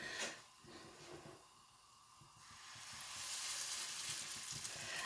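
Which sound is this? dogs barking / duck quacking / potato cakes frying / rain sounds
potato cakes frying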